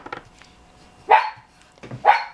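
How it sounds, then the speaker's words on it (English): A pet dog named Timmy barks twice indoors, each bark a loud, sharp burst about a second apart, with a quiet room and faint rustling between them. "are you not going to do something about that dog barking?"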